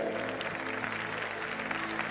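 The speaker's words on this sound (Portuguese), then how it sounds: "os que podem, tomem seu assento aplaudindo a Jesus" A church congregation applauding Jesus during a worship service, a steady wash of clapping from many hands throughout, over a sustained low keyboard tone.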